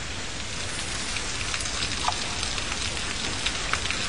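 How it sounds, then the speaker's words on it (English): Light rain falls steadily, a soft continuous patter with occasional distinct drops, with no voices. "The pitter patter of light summer rain."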